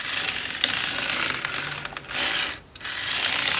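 An NZAK circular sock knitting machine being hand-cranked through waste yarn, giving a continuous close mechanical clatter of needles and gears that pauses briefly before resuming.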